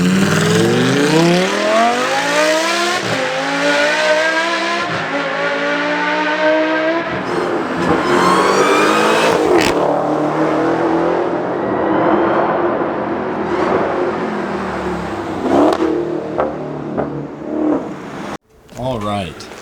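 A BMW E30 535i engine revs hard and loud, with repeated climbing sweeps over a steady throaty drone that runs nearly the whole time before cutting briefly near the end; voices come and go beneath it.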